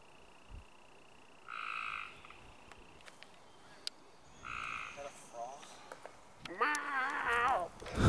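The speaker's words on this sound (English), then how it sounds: "Couldn't figure out what that thing was. Probably a frog." A frog croaks outdoors on a disc golf course, sending out a few short, raspy bursts with pauses between them, then a longer and louder run of croaks near the end over a quiet background.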